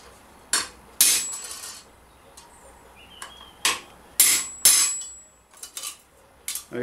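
A hammer strikes a chisel against a rivet on medieval armor, giving sharp metallic clanks that ring briefly and decay. About eight to ten blows come at irregular intervals, some in quick pairs, close and loud, with no talk.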